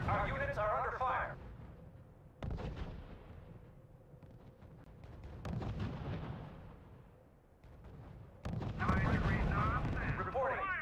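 Gunfire and artillery crack and boom during a campaign battle in the strategy video game R.U.S.E., with heavy blasts separated by quieter stretches and game voices talking between them.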